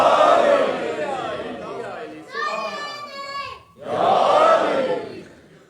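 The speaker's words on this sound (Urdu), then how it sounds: "ہر ایک میزان میں تولا علی مولا. نعرے" A crowd at a Shia majlis marking the martyrdom of Imam Muhammad Taqi chants the Haidari religious slogan in loud collective bursts, with a single voice calling out in the pause between them.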